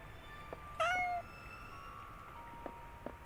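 A single short cat meow from the video game Goblin Cleanup, clear and mid-level over a quiet game background with faint ambient ticks, no talking.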